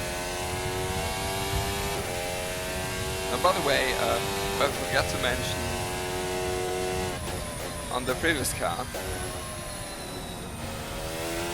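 A Formula Hybrid 2022 S with its Mercedes power unit laps Silverstone in a racing sim, the engine droning loud and continuous with rising and falling revs and quick gearshifts, while someone talks over it.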